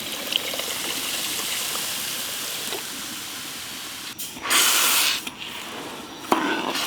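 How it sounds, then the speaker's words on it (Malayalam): Water is poured into sugar in a pan to make syrup for a giant jalebi: a soft hiss and trickle give way to a brief, louder gushing splash and another short pour. "കുറച്ച് വെള്ളം ഒഴിക്കാം"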